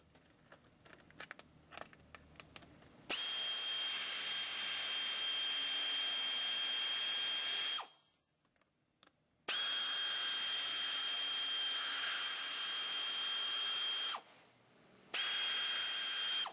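Power tool driving out bumper bolts on a GMC 2500/3500 truck during a front bumper replacement: two long, loud, steady whining bursts with a short pause between, then a brief third burst, after a stretch of quiet clicking.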